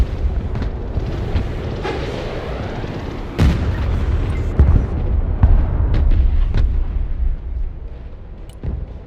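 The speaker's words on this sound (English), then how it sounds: "They're just like super accurate with this artillery all the time." Artillery shells boom in the video game Broken Arrow, several heavy blasts landing at irregular intervals over a rumbling battlefield background, with one especially loud close impact in the middle.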